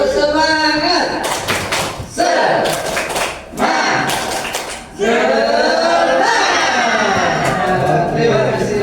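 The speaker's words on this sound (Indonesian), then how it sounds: "Tepuk semangat." A seated group performs a rhythmic spirit clap together in a meeting, with bursts of coordinated clapping broken by short pauses and voices chanting along throughout.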